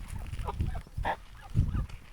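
Kholmogory geese honk in short nasal calls, a few scattered honks over low rumbling and farmyard background noise, fairly close.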